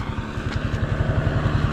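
A motorcycle engine runs steadily up close, its low, pulsing throb loud and continuous throughout with no talk over it.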